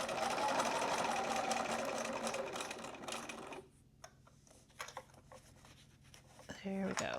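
Sewing machine stitching a fabric luggage tag, running steadily and close for a few seconds, then short bursts of back stitching with soft handling noises.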